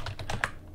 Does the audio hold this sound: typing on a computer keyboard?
yes